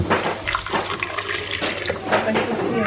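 Water runs steadily from a kitchen tap in a continuous splashing rush, close by, while people talk over it.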